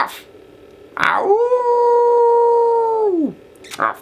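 A human voice imitates a dog or wolf howling outdoors on a camping trip: one long, steady, tonal howl lasting about two seconds, rising at the start and sliding down at the end, with short vocal bursts just before and after.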